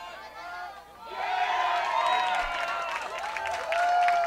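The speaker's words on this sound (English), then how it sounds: "A fan makes a play with a glove behind home plate, and it's a very loud cheer here at Borleske." A baseball crowd at Borleske Stadium erupts in a loud, sustained cheer with clapping after a fan's glove catch attempt behind home plate, swelling in after a quieter second.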